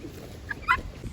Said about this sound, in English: So I just came over here to check on the chickens